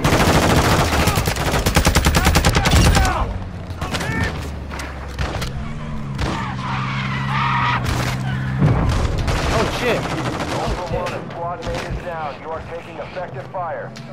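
Rapid bursts of video game gunfire in a squad shooter, with a dense volley of automatic shots at the start, then scattered single shots and thuds under ongoing voice chatter and radio callouts.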